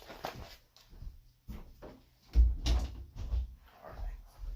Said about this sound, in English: Let me shut this door real quick here.